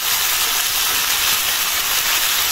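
A large boal fish fries in ground spice paste, giving a loud, continuous, even sizzle from close by with no breaks or voices.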